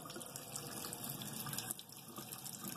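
A steady stream of Kangen water runs and splashes continuously, faint and close, pouring from a LeveLuk K8 water machine into a cup.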